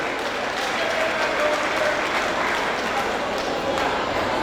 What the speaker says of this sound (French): je vous demande tous de vous applaudir, car vous êtes tous des gradués et des récipiendaires